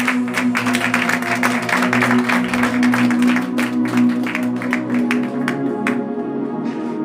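Congregation in a church applauding and cheering in acclamation of Jesus, steady sustained clapping and crowd voices under a held musical tone, fairly loud and continuous throughout.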